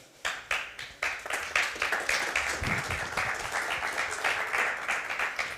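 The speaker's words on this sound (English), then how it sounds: "So another applause for her, please." A crowd at a startup pitch competition applauds steadily, many hands clapping together in a dense, sustained burst that begins sharply and carries on at an even level.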